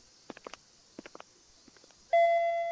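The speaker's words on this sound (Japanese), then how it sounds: "私たちはその離れの玄関でチャイムを鳴らす。" A doorbell chime rung at the entrance of a detached annex of a large house in the horror mystery game Shin Hayarigami: a single sustained electronic tone sounds near the end, after faint soft footsteps and taps.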